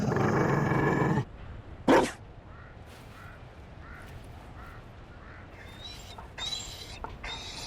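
A Mabari war dog in Dragon Age Inquisition lets out a loud growl, then a sharp bark, followed by quieter scattered animal noises and faint game ambience.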